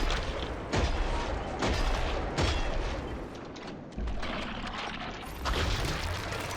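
Shotgun fire in the video game Killing Floor: about five sharp, loud blasts come at uneven intervals over a dense bed of continuous game noise.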